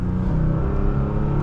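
A 2023 Toyota Tacoma TRD Off Road engine growls steadily with a deep, continuous low rumble throughout, close and fairly loud, with no voices over it.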